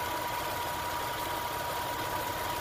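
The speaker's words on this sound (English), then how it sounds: "Check out the engine. I swear to God, not a single misfire." A 1992 Lexus ES300 engine idles after an ECU change and misfire fix, giving a steady, even, low hum heard close up with no talking.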